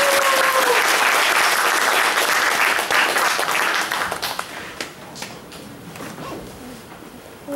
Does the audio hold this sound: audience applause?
yes